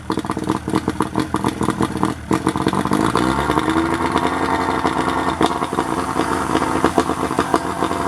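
1988 40HP Mariner outboard boat engine starting up, a brief cranking sputter that catches into a loud, close, steady idle with a rapid, even firing rhythm.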